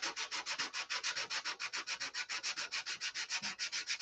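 Wood being sanded by hand, a quick regular series of rasping strokes, close and fairly quiet, with no voices.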